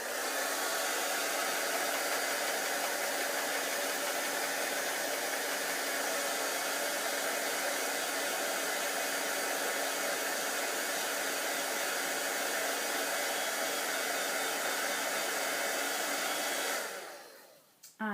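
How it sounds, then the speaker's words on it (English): An embossing heat tool runs continuously at close range while drying paint on a homemade pet placemat, a loud steady fan roar like a hair dryer that cuts off near the end. "I just use this embossing heat tool that I have for embossing crafts to help dry it"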